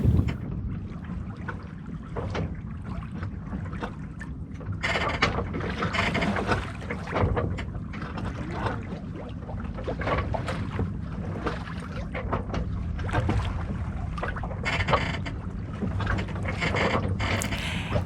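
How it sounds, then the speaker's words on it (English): A boat glides slowly through water in steady wind, a continuous broadband rush of wind and water with faint creaks and knocks throughout, no voices. "The wind whispered around our boat. We moved slowly through the water, but we were in no rush."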